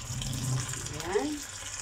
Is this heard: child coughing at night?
no